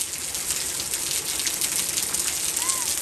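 Steady rain hisses down on a road, a dense, even patter that fills the whole stretch without pause.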